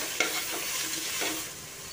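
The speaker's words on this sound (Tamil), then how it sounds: "இது லைட்டாக ஒரு கலர் கிளறி விடுங்க" Close, steady crackle of mint and coriander leaves frying in oil for banana flower biryani, with a few scrapes of a spoon stirring them through the pan.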